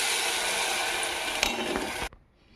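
Idli batter for crispy minapa rotti (dibba rotti) poured into hot oil in a pan, a loud broad sizzle and crackle that holds steady for about two seconds, then abruptly drops to a faint simmer.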